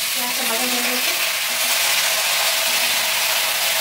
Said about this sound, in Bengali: মানে শাকটা ভাজা হয়ে গেছে